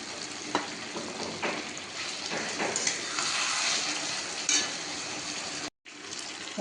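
Potatoes cooked down with spices frying in a pan as ground roasted coriander-cumin powder goes in for a katla fish-head kalia, a steady close sizzle with soft stirring scrapes and a brief silent break near the end.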